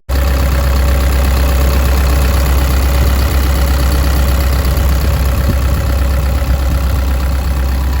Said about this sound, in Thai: ตอนนี้เครื่องก็ สตาร์ทอยู่ นะครับผมสตาร์ททิ้งไว้อยู่